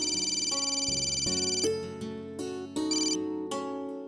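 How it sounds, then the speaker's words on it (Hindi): A melodic phone ringtone plays loudly and clearly, a bright electronic tune of repeating notes with no voices. "प्रिया का फोन"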